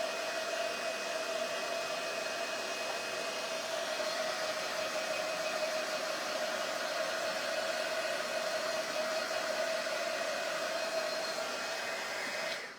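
A hair dryer blows steadily to dry craft paste, a loud continuous whooshing hum that holds evenly for about thirteen seconds before cutting off, with no talking.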